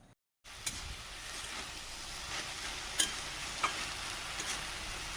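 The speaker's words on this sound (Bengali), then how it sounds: "কলমি শাকটা ভাজা বসিয়ে দিলাম" Water spinach fries in a pan with a continuous hissing sizzle and a few sharp stirring clicks, heard close after a brief silent start.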